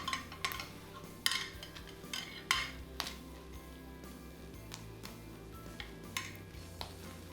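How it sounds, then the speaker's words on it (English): Baked tomatoes being smashed and stirred with feta for a plant-based, oil-free, gluten-free pasta dish: a utensil clinks and scrapes against a pan in irregular sharp knocks, with soft squishing and stirring between them, close and moderately loud, with no talking. "Now we need to smash the tomatoes and then mix in the feta."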